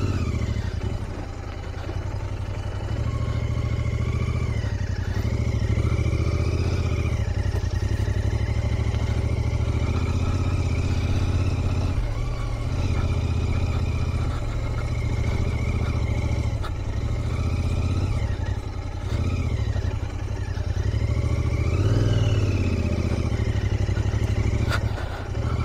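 A Royal Enfield Interceptor 650 motorcycle climbs a steep hill road toward Mardangad fort, its engine drone steady and loud throughout with clattering and small swells of revving, no voices.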